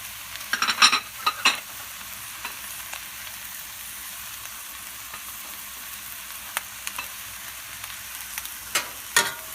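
Diced Thai green chilies and a seeded jalapeño sauté in a pan: a low continuous sizzle broken by sharp clattering stirs of a utensil early on and again near the end, without speech.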